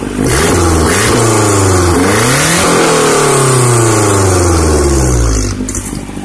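A turbocharged Honda Civic D16Y7 engine, an eBay turbo setup still missing its downpipe, revs loudly and continuously, climbing and falling through several sweeps before easing off near the end.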